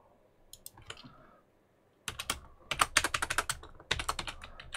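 Code being typed on a computer keyboard, quiet at first with a few isolated clicks, then bursts of rapid keystrokes after a short pause, close and fairly soft.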